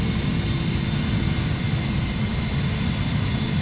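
Boeing 747-400 jet engines roar steadily during the climb after takeoff in a flight simulator, with a loud, continuous broadband rumble and no talking.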